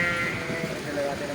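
Sheep bleat close by in a grazing flock, their calls overlapping with people talking over them.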